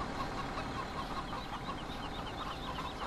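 Chickens clucking in the farm video game Farming Simulator 17, a steady dense murmur of overlapping clucks from a flock, moderately loud and continuous with no talking.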